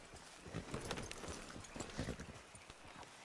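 Horse hooves clip-clop steadily on the ground in a video game, a close, rhythmic trot that runs through the whole stretch with no talk over it.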